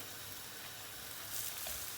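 Börek frying in a pan over high heat gives a steady, soft sizzle and crackle that holds evenly at close range, with no talking over it.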